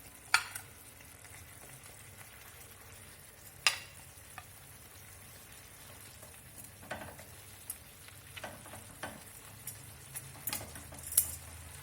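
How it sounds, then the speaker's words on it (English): Fried fish in a soy sauce curry sizzles softly and steadily in the pan, with occasional faint clicks and scrapes as it is stirred. "Now I am going to add the fried fish."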